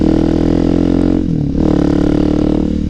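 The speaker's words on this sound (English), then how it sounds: "Well, I got a new exhaust on the DRZ." Suzuki DRZ motorcycle fitted with an MRD Racing aftermarket exhaust, idling loud and close with a deep, steady thrum that dips briefly in the middle before picking back up.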